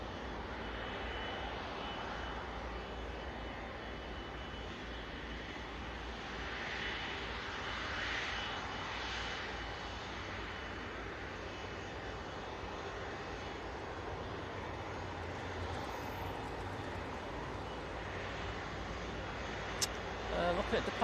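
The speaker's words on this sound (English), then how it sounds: "A350-900 coming in from Geneva for Ethiopian Airlines." An Ethiopian Airlines Airbus A350-900 jet arrives at Manchester Airport, a broad, steady roar of engines carrying on for the whole stretch at moderate distance, with no talk over it.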